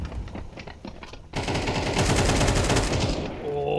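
Sustained automatic AK rifle fire in Counter-Strike, a loud dense rattle that starts abruptly and keeps going for over two seconds, following quieter scattered shots and faint commentary.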